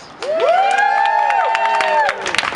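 Protesters at an End The Fed rally cheer and whoop loudly up close, sustained voices rising together with scattered clapping mixed in for a couple of seconds.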